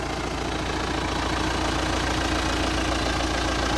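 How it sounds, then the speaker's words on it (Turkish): A diesel tractor engine idles nearby in a field, a loud steady chugging rumble that holds constant throughout with no voices. "Traktörümüz de bu."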